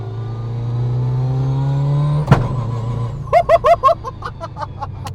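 A Mitsubishi Lancer Evolution VI engine with a sequential gearbox drones steadily, climbs in pitch, then drops abruptly into a series of sharp, rapid revving bursts as gears shift, loud and close.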